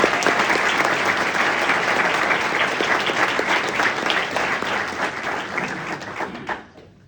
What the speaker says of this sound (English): So just a quick round of applause for all the sponsors.